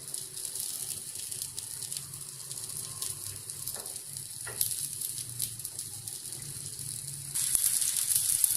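Chicken seekh kebabs sizzle in a little oil on a hot tawa, a steady, fairly quiet crackle with faint spitting bursts throughout that grows slightly louder near the end.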